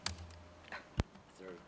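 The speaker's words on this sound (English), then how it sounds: "I was still typing." Several quick keystrokes on a computer keyboard at a planning and zoning commission meeting, faint sparse clicks with one sharper tap, amid quiet room noise and brief speech.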